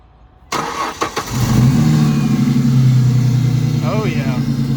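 A cheap $900 drift-build car engine cranks and catches after a couple of starter clicks, then settles into a loud, steady idle with a low rumble close by. A brief voice is heard over it near the end.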